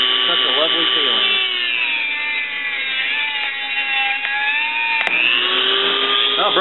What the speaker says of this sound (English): I'm going to go ahead and cut this side with the Dremel.